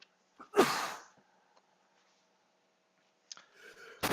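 A person sneezes once, a sharp loud burst with a breathy tail, followed by quiet and then faint rustling and movement at the end.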